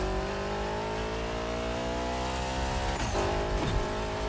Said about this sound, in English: it's also a very nice sounding car